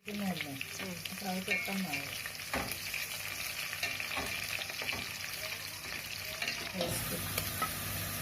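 Mustard seeds crackle and splutter in about three spoons of hot oil for a Kerala-style fish curry, with quick pops and spitting over a continuous sizzle; a brief voice is heard near the start.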